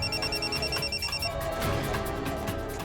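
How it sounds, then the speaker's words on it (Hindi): A mobile phone rings with a repeating electronic ringtone in bursts, steady and fairly loud against a busy background of music, with no talk over it. "तुम्हारा फोन कब से बज रहा है"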